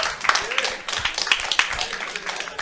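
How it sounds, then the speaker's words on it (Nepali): Audience applause and clapping at a stand-up comedy show in a club, a dense patter of hands at close range that runs the whole time, with a voice faintly mixed in. "एकचोटि ह्यापी क्लबको लागि चाहिँ ताली बजाइदिउँ न"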